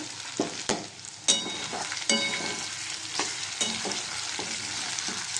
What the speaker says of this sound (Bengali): এবার একটু নেড়ে চেড়ে তো দেখো জল ছেড়েছিল তারপর এখন তেল ছেড়ে দিয়েছে